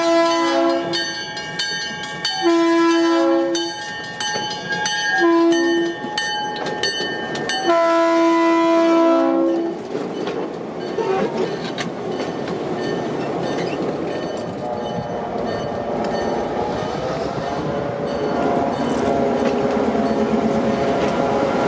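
A GP9U diesel locomotive blasts its horn in several long and short calls, then rumbles past loudly with clattering wheels and steady mechanical roar.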